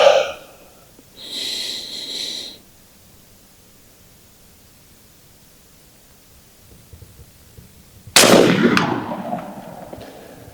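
Element Max .50 caliber PCP airgun firing a single loud, sharp report near the end, followed by a decaying echo. Earlier come brief mechanical clicks and a short hiss, with quiet outdoor background between.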